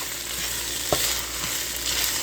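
Shrimp fried rice fries in a pan with a close, steady sizzling hiss while a spatula stirs it, one soft scraping knock standing out briefly.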